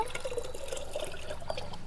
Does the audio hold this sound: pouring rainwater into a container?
yes